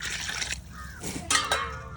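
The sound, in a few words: water being poured into a pot for biryani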